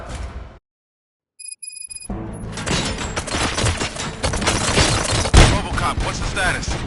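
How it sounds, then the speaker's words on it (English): Dense, loud gunfire from RoboCop: Rogue City erupts after a brief silence and rolls on in a continuous volley, with one sharper, heavier blast near the end. "Gunshots? What's going on?"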